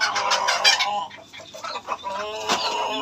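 A native Tagalog chicken clucks close by in a series of short, rising calls with brief pauses, followed by a sharper squawk near the end.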